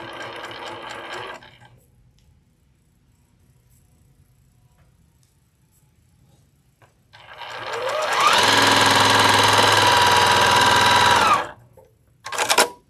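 A sewing machine stitches a candy cane stocking in short bursts, with a quick whir at the start, a long quiet gap, then a louder sustained run of rapid mechanical chatter and a final brief burst.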